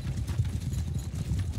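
Horse archers gallop in the video game Mount & Blade II: Bannerlord, a dense continuous drumming of many hooves, loud and steady throughout with no voices.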